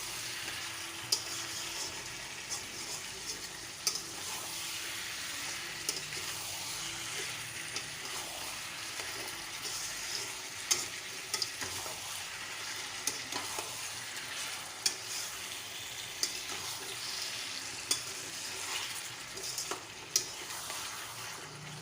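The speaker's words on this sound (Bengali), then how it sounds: "গ্যাসের ফ্লেমটা হাইতে দিয়ে ভালো করে কষিয়ে নেব।" Lote fish (Bombay duck) is stir-fried over a high gas flame, making a continuous loud sizzle. Sharp spatula scrapes and knocks against the pan recur every second or two, with no voices.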